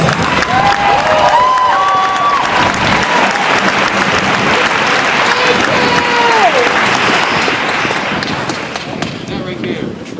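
Enthusiastic applause from a crowd at a Black Lives Matter rally in Portland, Maine, loud and sustained, with scattered cheers and voices rising above the clapping.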